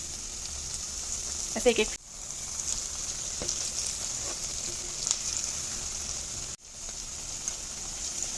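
Medu vada deep-frying in hot oil over a high gas flame, a steady close hiss and sizzle running throughout with brief crackles, while a person speaks over it.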